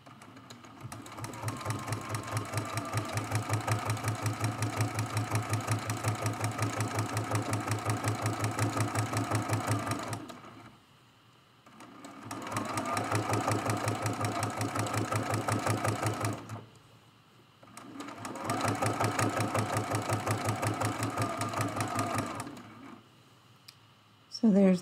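A sewing machine stitches back-and-forth zigzags while quilting a hummingbird-and-flowers design, running in three long, steady buzzing bursts separated by brief pauses, close and even, with a few soft sounds between runs.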